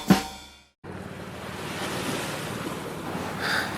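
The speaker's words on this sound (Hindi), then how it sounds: "कितना खूबसूरत समंदर है। मैं तो पहली बार ऐसे गहरे समंदर में आया हूँ।" Deep sea waves washing in a steady windy roar after a brief sharp sound and a moment of silence, with no voices.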